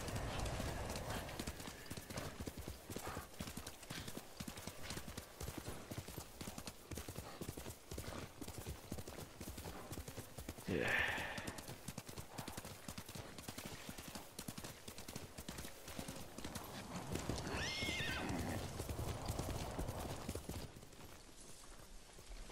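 Hooves clip-clop steadily as a horse trots in Ghost of Tsushima, carrying on for over twenty seconds over low rumbling ambience, with a couple of brief whinnies breaking through midway and near the end.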